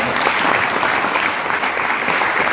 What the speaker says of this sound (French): Moi je pense que vous pouvez l'applaudir parce qu'elle fait un boulot génial.